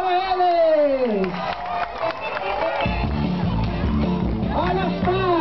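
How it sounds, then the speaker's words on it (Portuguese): An audience claps and cheers for a kindergarten class at a São João festa junina school celebration, with a loud amplified voice talking over the crowd noise. "Olha as palmas!"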